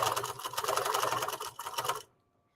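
A sewing machine stitches a quilt block in one steady, fast run of needle chatter close by, then stops abruptly near the end.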